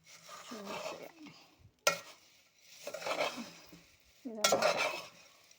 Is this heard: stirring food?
yes